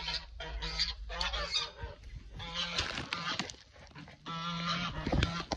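Geese on a backyard farm with chickens nearby honk loudly and close in overlapping, repeated calls, with a short quieter gap partway through before the honking resumes.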